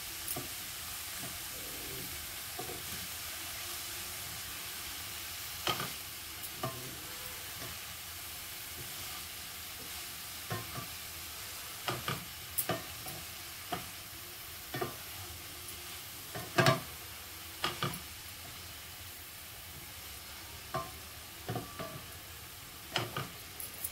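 Cowpea leaf greens stir-fry in oil with a low continuous sizzle, punctuated by frequent close metallic scrapes and taps of a spatula against the pan, growing busier toward the end, with no talking.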